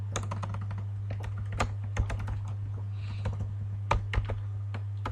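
Code typed on a computer keyboard, a close run of irregular clicking keystrokes with occasional heavier key thuds over a low steady hum, no talking.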